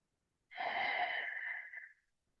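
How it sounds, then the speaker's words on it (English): A single long, deep breath drawn close during a seated yoga cool-down, a steady airy rush of about a second and a half that tapers off into silence. "let's just take a few more big, deep breaths together"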